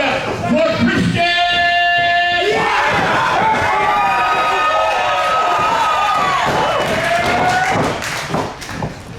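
A large pro wrestling crowd roars and cheers for Christian Black, a sustained loud wall of voices with shouts rising over it, alongside a brief tonal sting early on.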